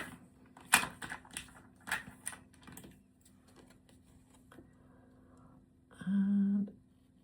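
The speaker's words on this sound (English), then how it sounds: "let's get the little scissors to do the notches" Small scissors snip notches in a book nook kit with a few quiet, sharp cuts spaced apart, and a short steady hum near the end.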